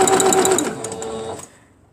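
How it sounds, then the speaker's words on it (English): A sewing machine stitches a straight seam on a beginner's quilt, its loud rapid mechanical whir running steadily before slowing and stopping about one and a half seconds in, with no talk over it. "I'm going to sew it down just straight."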